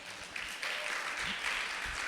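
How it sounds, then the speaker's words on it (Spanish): A church congregation claps together in a strong, sustained wash of applause for the Lord during a sermon, fairly soft and steady with a few low thumps underneath. "¿Por qué no le das un fuerte aplauso a tu Señor?"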